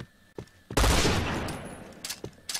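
A sudden burst of heavy gunfire in a competitive Point Blank match with a booming blast that fades out, followed by a few sharper, quicker shots.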